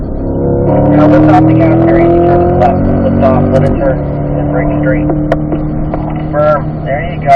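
A Chevrolet C8 Corvette on a track, its engine droning loudly then easing as the throttle lifts, leaving a lower steady hum, with someone talking over it throughout.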